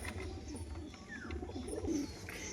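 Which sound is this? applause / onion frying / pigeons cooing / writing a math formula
pigeons cooing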